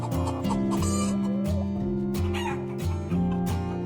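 Cartoon chickens cluck repeatedly at a poultry farm near Mumbai, with steady musical tones running underneath the whole time and no talking.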